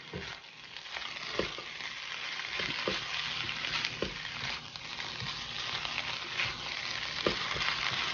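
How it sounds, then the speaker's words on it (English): Shrimp and chicken fry in a stir-fry pan with a constant close sizzle. Light taps and scrapes from a spatula come at irregular intervals, and there is no talking. "once these shrimp go in, you pretty much know your stir fry is ready"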